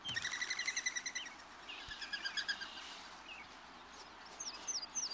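Wild birds calling outdoors around mourning doves, with a series of short, bright chirps and whistled notes at moderate distance over quiet background, ending in a few scattered calls.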